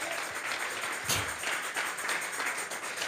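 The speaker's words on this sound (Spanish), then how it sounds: "Vamos a regalarle ofrenda de palmas al Dios de la gloria." Church congregation clapping together during a sermon, a steady dense patter of many hands held for about three seconds at a moderate distance, with no talking.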